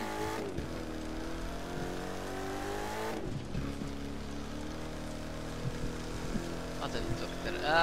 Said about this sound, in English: So then I guess everybody changed to your monster trucks?